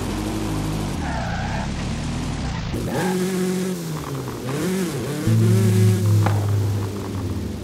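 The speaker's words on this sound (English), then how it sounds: "I'll pull over and see what the problem is." A car engine runs steadily and revs as the vehicle slows and pulls over to the roadside, with a suspected wheel-bearing problem making it pull to one side; the hum is loud, shifts in pitch, and swells near the end.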